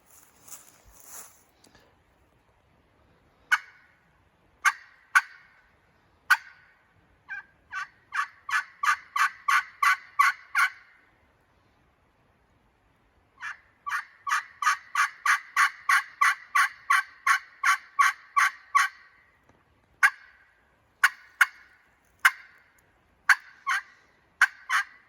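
A turkey game call made of canary wood and padauk laminate over a stoned aluminum surface is played alone. It gives sharp, clear yelps, first singly and then in long, fast rhythmic runs, with quiet gaps between runs.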